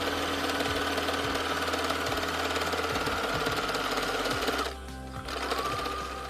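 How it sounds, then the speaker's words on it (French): A sewing machine stitches a three-layer pleated fabric face mask, running steadily and loudly with a fast mechanical rhythm, a brief pause near the end, and no speech. "On va coudre sans faire d'ouverture dans toute la longueur."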